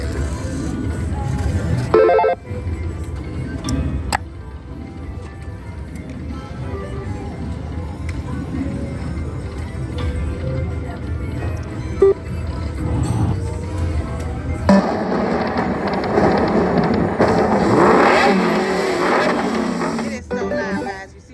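A Checkered Flag Lightning Dollar Link slot machine plays loudly in a casino, with continuous electronic jingles, chimes and ringing effects that swell louder toward the end, while a person talks over it.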